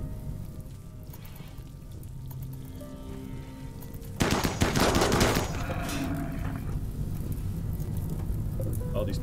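A burst of gunfire in the RimWorld colony game, a loud crackling volley of rapid shots lasting about a second, set against a low, steady hum of game ambience.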